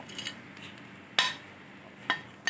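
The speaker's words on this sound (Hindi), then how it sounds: "ये सारी वेजिटेबल, और इसको करेंगे अच्छे से मिक्स" A utensil scrapes and clinks against a pan three times, sharp and close, while chicken and vegetables are stirred in oil for chow mein over a quiet kitchen background.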